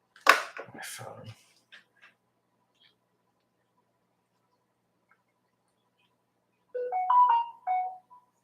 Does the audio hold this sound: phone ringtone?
yes